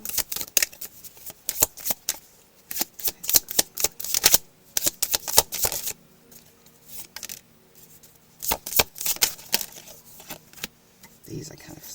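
Tarot cards being shuffled and drawn, with rapid bursts of riffling and flicking in clustered runs, then a pause and another round of close shuffling.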